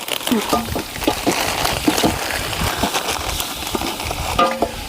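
Biryani masala being stirred and fried in a pot outdoors: a low sizzle with scattered scraping stirs, close, while people talk over it.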